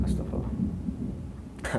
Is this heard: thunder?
yes